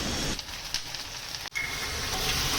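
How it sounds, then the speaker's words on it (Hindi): Green chillies sizzling in hot oil while frying, a steady soft hiss that stays even and close for the whole moment, with no talking. "मैं बस मिर्ची छौंक रही थी"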